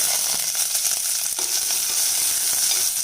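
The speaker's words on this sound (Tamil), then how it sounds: "இப்போ கருவேப்பிலையும் சின்ன வெங்காயம் சேர்த்துடலாம்" Curry leaves and small shallots frying in hot oil with dried and green chilies give a continuous close crackling sizzle, with a few light stirring taps.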